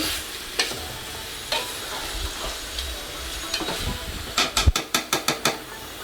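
Chicken biryani masala being stirred and fried in a pan: steady sizzle under scraping spoon strokes, ending in a quick run of sharp rhythmic clanks against the pan.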